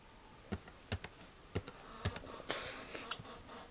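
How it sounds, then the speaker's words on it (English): Keys on a computer keyboard being typed in a short burst of separate, crisp clicks, a few quick strokes spread irregularly over a few seconds, close and fairly quiet with no one talking. "And you just type in, Hi, Pookaloo."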